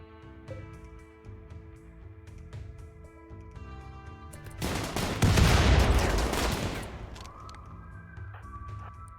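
Gunfire in the colony-management game RimWorld, including a machine pistol, erupts into a loud, dense burst of shots midway through, set against a steady musical backdrop with a siren-like rising tone afterward.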